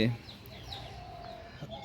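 Chicks cluck and chirp softly nearby, a few short calls over a faint background murmur.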